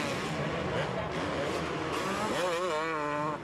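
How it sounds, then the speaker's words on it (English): Motocross motorcycles racing at the 2004 AMA round at Spring Creek, engines buzzing and rising in pitch as a rider opens the throttle, under continuous commentary. "lets Voss come through on the inside, just rap on the throttle straight on by."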